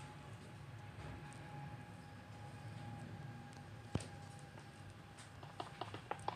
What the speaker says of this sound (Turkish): İstanbul Medet Metrosu'nun Koz yatay istasyonuna yaklaşıyoruz arkadaşlar şu an